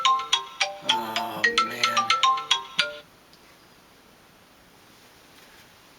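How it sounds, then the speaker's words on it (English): A phone ringtone chimes in a rapid repeating melodic pattern for about three seconds, loud and close, then stops abruptly into quiet room hiss; a man mutters briefly. "I got a phone call."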